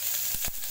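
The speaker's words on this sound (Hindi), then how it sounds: "इसी में एक कटा हुआ प्याज डालेंगे।" Steady, close hiss of chopped onion hitting hot oil seasoned with asafoetida, a continuous sizzle with a couple of brief louder spits, no voices.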